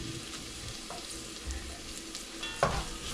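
Onion frying in a pan with lechon meat, a steady soft sizzle with occasional stirring scrapes and a brief clatter near the end.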